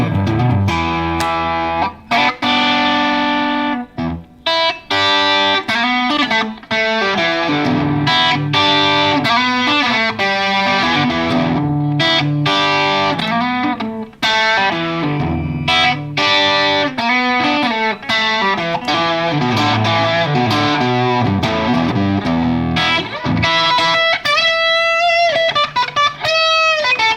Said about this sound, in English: That's an interesting distortion.